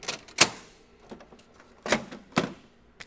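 Epson ColorWorks C6000 label printer running, giving a few sharp mechanical clacks and short whirs spaced irregularly, close and alone with quiet gaps between.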